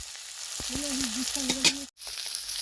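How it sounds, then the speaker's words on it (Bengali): Potatoes frying in hot mustard oil for a duck egg curry, giving a steady, fairly loud high sizzle, with a brief wavering tone over it and a short sharp gap near the end. "এই তেলে আলুগুলো খুব ভালো করে ভেজে নেব"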